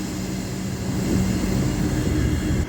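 A single-carriage train rumbles steadily close by, with a broad low roar and faint high whine, easing slightly at the end as it comes to a stop at a train stop.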